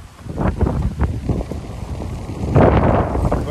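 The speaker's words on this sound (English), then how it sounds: "it's a bit windy" Wind gusting across an exposed hilltop on Wando island in South Korea, buffeting the microphone with a steady low roar that swells louder near the end; no voices.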